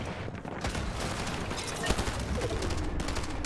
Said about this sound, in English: Good suppressive fire into all these low ground layers.